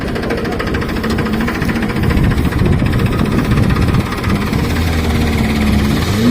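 A tractor engine labours hard pulling a loaded vehicle, a loud, close, rough diesel drone with knocking vibration that swells and strains midway, then settles into a steady heavy rumble.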